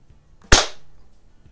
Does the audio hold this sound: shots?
yes